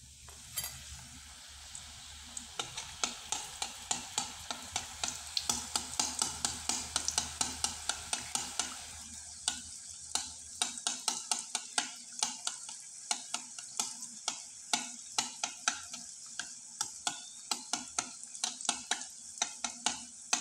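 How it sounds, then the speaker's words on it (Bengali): Crispy pitha fry on a low flame with a constant gentle sizzle, broken by a rapid run of sharp stirring and scraping clicks from a utensil in the pan, close and alone. "একইভাবে আমি আরও দুইটা পিঠা আপনাদের ভেজে দেখিয়ে দিচ্ছি।"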